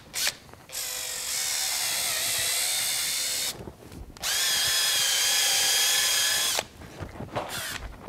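A power drill whirs continuously in two long bursts with a brief pause between, spinning a rotor brush steadily through a beef cow's hair.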